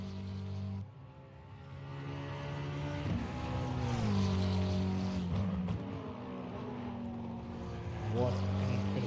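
McLaren 720S GT3 race car engine in a racing video game at the Hungaroring, revving hard and climbing through the gears with audible drops at each shift, the engine note rising and falling steadily throughout.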